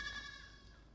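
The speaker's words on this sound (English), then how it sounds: "Now shut up that fucking goat!" A goat bleats on a film set, a single faint, drawn-out wavering cry fading over about a second against low background rumble.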